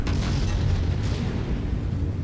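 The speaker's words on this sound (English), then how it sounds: "he's got an ammo explosion" A mech's ammunition explodes in MechWarrior combat, a loud, dense booming blast that rumbles without a break for a couple of seconds.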